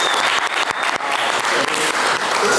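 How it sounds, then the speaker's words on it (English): A crowd bursts into a round of applause, dense and steady clapping filling the whole stretch at close range with no talk over it. "A round of applause."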